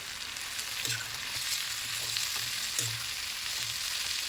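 Chopped tomatoes sizzle quietly in a pan while a utensil scrapes and stirs them in short, repeated strokes.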